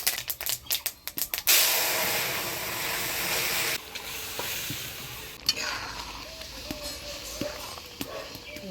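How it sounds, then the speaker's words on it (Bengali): Boiled lentils poured into a sizzling tempering of mustard seeds and dried red chilli for Bengali mango dal, opening with a harsh burst of hissing and clatter, then settling into a lower bubbling sizzle with occasional stirring knocks. "ফুটিয়ে রাখা ডাল দিয়ে দিই।"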